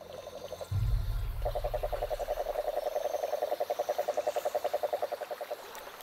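A toad in a swamp on Fraser Island, Australia, gives a long rapid trilling croak, steady pulses continuing for several seconds over a soft low background hum.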